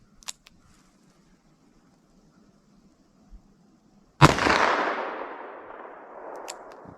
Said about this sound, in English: Let me fire one single action, see where I think they're going.